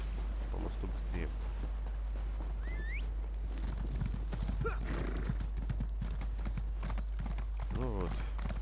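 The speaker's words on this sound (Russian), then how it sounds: "Быстрее скачет лошадка." Horse hooves clip-clop in a fast galloping rhythm in the video game Elder Scrolls Online, with an occasional whinny, while a person talks over the steady hoofbeats.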